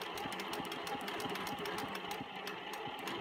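A sewing machine stitching free-motion quilted swirls runs steadily and close by, a rapid continuous mechanical chatter with no pauses or talk.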